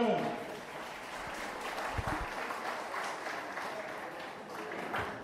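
Audience applause breaks out for a presenter at a Pecha Kucha evening at the Saligao Institute, a steady room-filling clapping that holds for several seconds, with a few voices mixed in.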